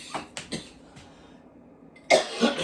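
A person coughs a few times after being caught in the throat by hot seasoning on a whole rainbow trout. The first coughs are short and sharp, then there is a pause, and a louder, harsher burst of coughing comes near the end.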